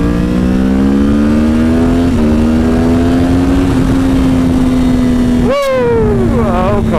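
A 2017 Yamaha R6 sport bike exhaust rises in a steady, loud rev as the bike pulls hard, then the pitch drops sharply on a shift or throttle-off before climbing again, close and continuous throughout.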